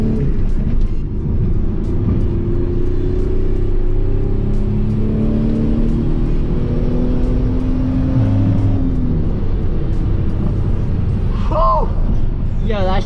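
A Mitsubishi 3G Eclipse GT V6 pulls hard from inside the cabin on a night drive, its engine note rising through a long run and then shifting, with a voice exclaiming near the end.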